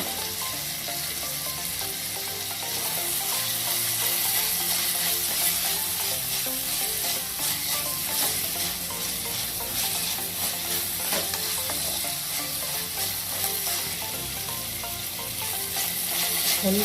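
Onion frying in a pan with ginger garlic paste and a green chilli for mushroom tikka masala, a steady close sizzle with continuous stirring that stays even and unbroken, no talking.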